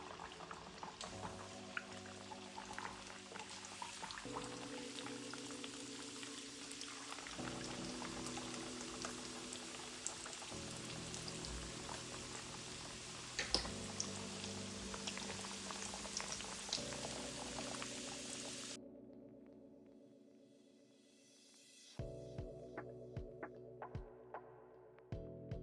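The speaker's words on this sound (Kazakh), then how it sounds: "Мінекей майымыз қызып тұр. Енді үстіне пончиктарымызды саламыз." Doughnuts made from soured milk bubble and sizzle quietly in hot oil in a continuous, soft crackle. Background music with changing tones plays alongside, then briefly fades.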